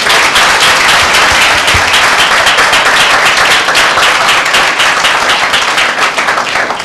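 Loud, dense applause from a church congregation at a Tuesday prayer meeting, sustained vigorous clapping close up that fills the whole stretch without pause.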